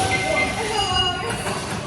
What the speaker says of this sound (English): See how long this train is.